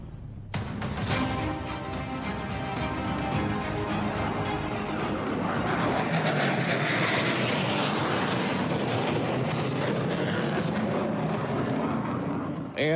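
A military jet engine roars loudly and continuously at an Ethiopian Air Force 90th anniversary celebration, a broad harsh rushing drone that swells and holds without letting up.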